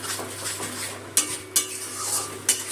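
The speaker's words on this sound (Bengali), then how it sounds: "এখন কাজু বাদাম, টক দই আর যে গুঁড়ো মশলাগুলো দিলাম সবগুলো কষিয়ে দেবো।" Cashews, sour yogurt and ground spices being sautéed in a pan over lowered gas for katla kalia fish curry: a close metal spatula scrapes and stirs over a faint sizzle, with three sharp clinks against the pan.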